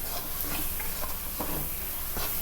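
Crab pieces fry in a pan of spiced masala, giving a soft steady sizzle punctuated by light scraping stirs and small ticks, faint and close, with no talking.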